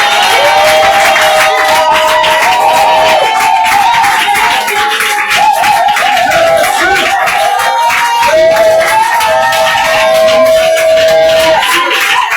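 A church congregation at an evening service loudly cheering and acclaiming Jesus, a dense continuous roar of voices with clapping and ululating shouts throughout, close and full.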